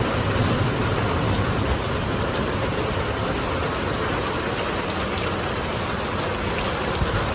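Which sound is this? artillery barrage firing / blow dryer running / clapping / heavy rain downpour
heavy rain downpour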